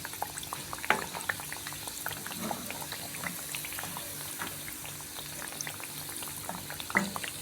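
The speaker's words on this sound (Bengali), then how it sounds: "একেবারে লো ফ্লেমে এটাকে একেবারে ব্রাউন করে ভাজতে হবে" Thekua frying in oil over a low flame, a continuous fine bubbling and crackle with occasional louder pops, steady and close throughout.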